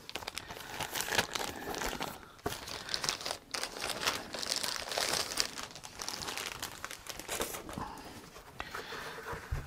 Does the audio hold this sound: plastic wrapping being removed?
yes